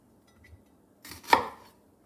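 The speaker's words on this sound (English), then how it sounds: "and then just chop it down like so" One crisp knife chop through vegetables onto a cutting board, close and clear in a quiet kitchen, with a faint tap just before it.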